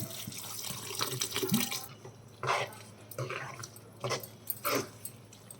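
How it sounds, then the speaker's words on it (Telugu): Water splashes and trickles in short bursts into a pan of broad beans with sesame powder, a few separate pours close by, with a faint background hum. "ఇప్పుడు కొంచెం వాటర్ వేసుకుందాం"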